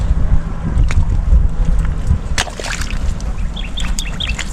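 Wind blowing across an open calamansi farm, a steady loud rushing buffet against the microphone with scattered faint bird chirps and clicks, no talk.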